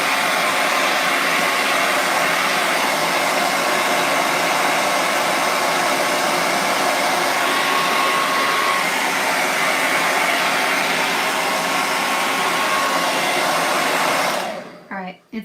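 A hair dryer runs at a steady, loud airy roar while drying paint on a painted door hanger, continuous for about fourteen seconds before it cuts off abruptly near the end.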